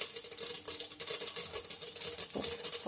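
Mustard seeds crackle and sizzle in a hot pan for rice vermicelli upma, giving a dense close-up spitting and popping with rhythmic stirring scrapes throughout.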